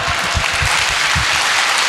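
A crowd at a public speech in Tatanagar claps loudly and continuously, a dense, steady wash of applause with no voices over it.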